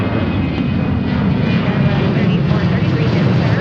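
A Delta Boeing 737 jet at Seattle airport roars loudly and steadily from fairly close by, its broad engine rumble holding without a break and no talk.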